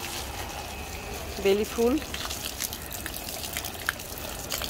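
Water from a hose pours and splashes steadily across the plants and floor of a rooftop flower garden, with people talking over the running water.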